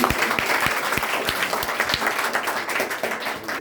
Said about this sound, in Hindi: के लिए एक जोरदार ताली।